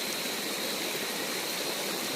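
A river runs steadily beside the bank, a continuous broadband rush of flowing water with no pauses, fairly close and even throughout.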